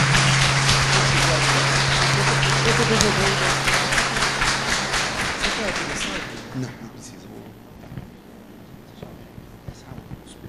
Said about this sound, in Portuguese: Uma salva de palmas para o Ivan.